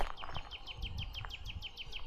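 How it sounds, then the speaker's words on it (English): A nightingale sings a fast, rapid run of repeated high chirping notes in a car park at Knepp Estate, moderately distant, with low background rumble. "There's a nightingale singing"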